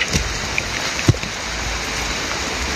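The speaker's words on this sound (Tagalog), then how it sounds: "Malakas ng ulan mga tol." Heavy rain pours steadily outdoors in a constant, dense hiss with a few sharp drops or knocks standing out, and no voices.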